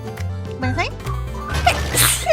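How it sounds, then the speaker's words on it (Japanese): A light sneeze from a Hololive streamer, a short burst amid continuous close talking and livestream sounds. "軽いくしゃみが出たね。"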